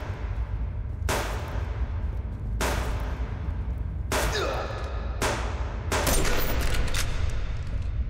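Gunfire in the survival game Subsistence fires as several loud, sharp rifle shots spaced a second or so apart, each echoing briefly over a low rumbling background.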